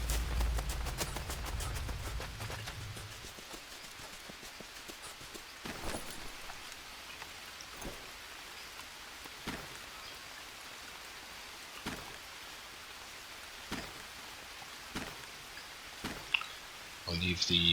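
Steady rain falls in the jungle survival game Green Hell, a soft continuous patter with recurring sharp clicks and drips spaced every couple of seconds.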